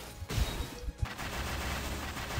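Rapid gunfire in the Black Rock Shooter video game, a dense burst of shots with sharp low thumps running steadily through the whole stretch, loud and close.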